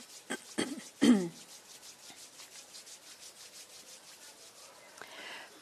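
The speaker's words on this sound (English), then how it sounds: "rub them gently against each other" Palms of two hands rubbed gently together in a quiet room, a few soft brushing strokes near the start followed by faint, steady friction.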